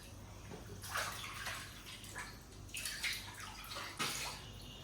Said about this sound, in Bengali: শম্ভুকে চান করাতে ব্যস্ত